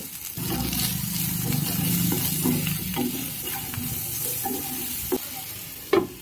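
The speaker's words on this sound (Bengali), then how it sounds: "এবার ফ্রাই প্যানে আর একটু তেল দিয়ে কেটে রাখা আলু বেগুনগুলো দিয়ে দিব" Potatoes and eggplant sizzle steadily as they fry in a pan, with occasional clicks and scrapes from stirring.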